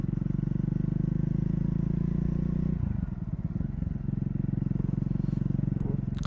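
A Triumph Speed 400 motorcycle engine thrums steadily at close range while riding, its pitch briefly shifting midway before settling back into a steady drone.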